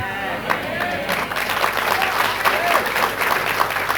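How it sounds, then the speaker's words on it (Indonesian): A church congregation applauds during a service, a thick sustained clapping of many hands with voices calling out over it throughout. "Jangan cuma tepuk tangan."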